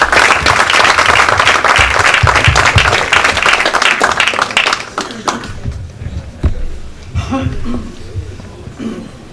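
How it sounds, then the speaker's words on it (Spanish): Audience at a Peruvian engineers' award ceremony breaks into loud, dense applause that fades after about five seconds into scattered claps, with some voices under it. "Aplausos."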